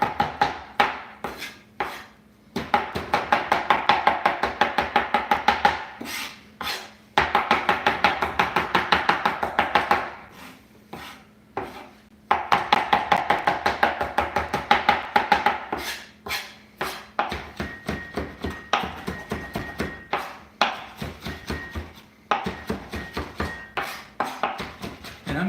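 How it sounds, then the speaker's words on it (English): Yellow onion chopped on a cutting board with a knife, a fast steady run of crisp close knife strikes in bursts separated by short pauses. "I just have to chop the yellow onion"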